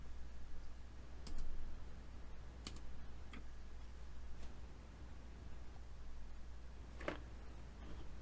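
Computer keyboard keys click in sparse, isolated taps, faint and near, over a steady low hum and hiss in a quiet room with no talking.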